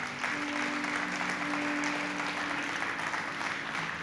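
A church congregation claps in steady, even applause for the full few seconds, with no voices over it.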